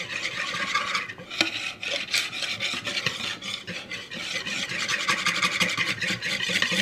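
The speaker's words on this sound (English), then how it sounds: "I really just want to get all of my cocoa powder mixed in really well and get all of the clumps out" A cocoa powder mixture is whisked briskly in a bowl to break up clumps, making continuous close scraping and rasping strokes in a quick, uneven rhythm with no talk.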